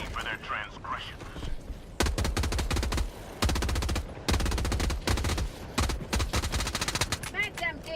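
A pellet gun in a video game fires loud, rapid bursts of shots in several long volleys with short breaks between them, close and dominant.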